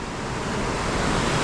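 Steady broadband roar of a waterfall swollen by monsoon rain on a trek in Nepal, continuous and fairly close, with no voices.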